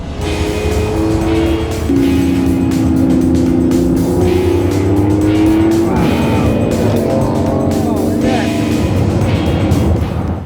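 A Lamborghini Revuelto accelerates hard through a tunnel in France, its loud engine note rising and sweeping in pitch through several gear changes, booming off the tunnel walls, with a voice heard briefly over it.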